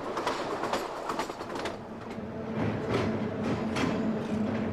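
Passenger train rolling toward Quebec, a close steady rumble with rhythmic clickety-clack of wheels over rail joints throughout.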